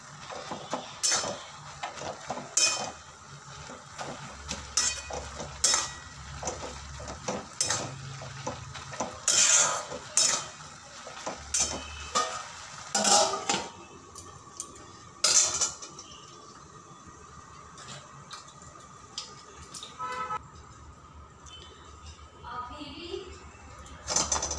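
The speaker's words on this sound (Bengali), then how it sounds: "মাঝে একবার ঢাকনা খুলে শাকটা নাড়াচাড়া করে দেব।" Data greens boiling in a covered pot are stirred, with scattered metallic clinks of utensil on pot, a lid rattling, and soft scraping, moderately faint, with a voice speaking intermittently.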